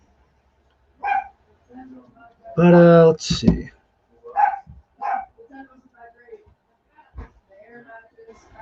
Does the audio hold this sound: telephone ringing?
no